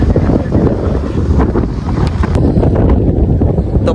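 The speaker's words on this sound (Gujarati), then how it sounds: "પવન ભાઈ ફૂલ છે પવન અત્યારે" Strong wind at sea batters a fishing boat off Porbandar during a storm, with loud gusting buffeting the microphone and the rumble of rough water and the boat underneath throughout.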